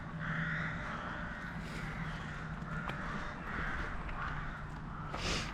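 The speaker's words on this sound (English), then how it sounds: "Listen to the crows." Crows near Stirling Castle in Scotland giving repeated harsh caws in open outdoor space, moderately close over a steady wind-like background hiss.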